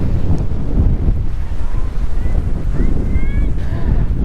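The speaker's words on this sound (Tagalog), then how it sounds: "Nakakatakot dito, lakas ng hangin." Strong wind blows hard by the sea at a bay in the Philippines as a storm approaches, roaring and buffeting the microphone loudly and steadily throughout.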